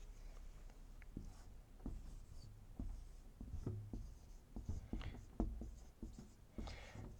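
A marker squeaks and taps across a whiteboard in short strokes and pauses, fairly close and fairly quiet, during a real estate lesson with no talking over it.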